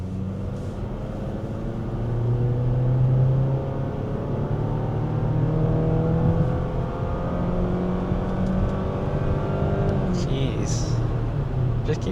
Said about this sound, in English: Just keeps on revving, but nothing happens.